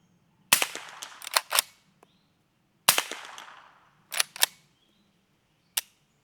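A Henry Supreme rifle in 300 Blackout firing with the bolt closed: loud, sharp shots with echoing tails, two doubled bursts, then a pair of close reports and a last single shot, separated by quiet, against a faint low hum.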